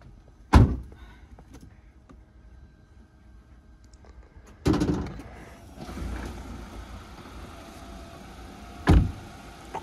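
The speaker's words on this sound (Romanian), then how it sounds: "Trage de capotă." Mechanical thumps and clunks from a Mazda CX-60 as the hood release is pulled and the hood is opened: three distinct heavy knocks spaced several seconds apart, with faint rattling in between and no talk.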